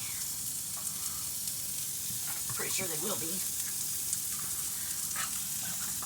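Ground meat sizzles and fries steadily in a pan on a gas stove, with faint stirring scrapes, while a person speaks briefly over the constant hiss.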